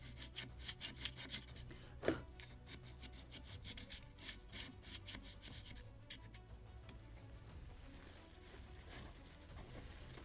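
Steady close rubbing and rasping of sandpaper on a wooden Midwest lobster smack model boat kit, worked in tricky spots, with a few sharper scratches and no talk over it.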